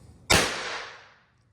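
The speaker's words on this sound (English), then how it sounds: "hopefully the video will show that that shock tube is getting initiated" A shock tube fired by a high energy bridge wire initiator gives a single sharp, loud crack up close, followed by a hissing tail that fades out over about a second.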